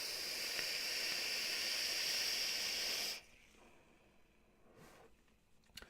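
Air is drawn through the airflow of a Vaporesso Gemini RTA vape tank, giving a steady close breathy hiss for about three seconds that cuts off abruptly, followed by quieter faint hissing and small clicks.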